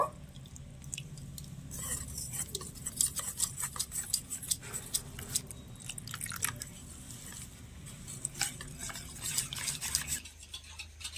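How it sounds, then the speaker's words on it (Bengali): Vegetable chop batter stirred by hand with water added a little at a time, giving soft wet squelching and tapping strokes in an irregular rhythm, close and fairly quiet, with no talking. "এবারে উপর থেকে অল্প অল্প করে জল দিয়ে একটা গোলা তৈরি করে নেব।"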